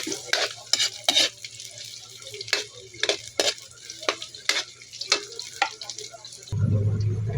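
Onions sautéing with garlic in a pan for Bicol express, heard as scattered spatula taps and scrapes over a quiet fry, ending in a louder burst of sizzling.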